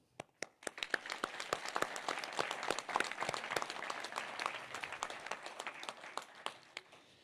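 An audience applauds at a New Year greetings ceremony: a few scattered claps quickly swell into sustained, dense clapping that holds for several seconds, then thins toward the end.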